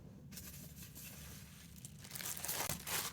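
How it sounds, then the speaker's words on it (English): A plastic bag wrapped around a watercolour palette crinkles and rustles close to the microphone, quiet at first and then louder, denser crumpling toward the end, with no talking. "I'm still keeping in this plastic bag"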